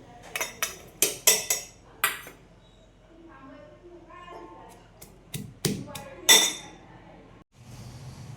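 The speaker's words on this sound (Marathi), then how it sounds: "त्यासाठी हिरव्या मिरची आणि लसूण घेतलं आहे तो आपण खलबत्यात ठेसून घेऊया" Green chillies and garlic pounded in a mortar and pestle for a Maharashtrian onion dish: a series of sharp, close knocks, some in quick clusters and some spaced apart, with quiet gaps between bursts.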